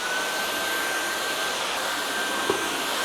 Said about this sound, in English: Now I'm going to vacuum the floors.